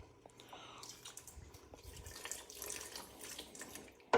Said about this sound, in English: Oops, I'm dripping on the side.